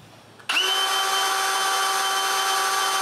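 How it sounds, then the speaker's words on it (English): A power drill spins up abruptly and runs steadily at high speed, boring a hole in a plastic box meant to hold a stepper motor, loud, close and alone for several seconds. "After drilling a small hole where I want the motor shaft, I turn the box and drill the final hole."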